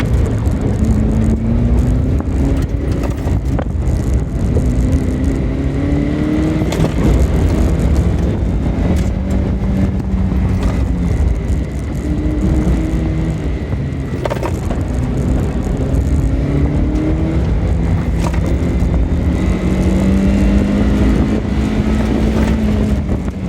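Toyota MR2 Spyder in E Street class accelerating hard around an autocross course at Virginia Motorsport, loud close engine and intake noise rising and falling through repeated gear pulls, with no talking.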